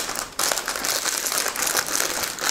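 Plastic packaging on a Sodebo sandwich is torn and opened, with a sudden start of dense crinkling and crackling that continues close and moderately loud for a couple of seconds.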